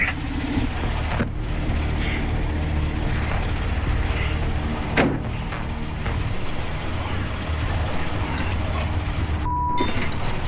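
A heavy loader works in deep mud beside a stuck haul truck: a loud, steady diesel rumble with occasional sharp mechanical knocks and clanks, no talk over it.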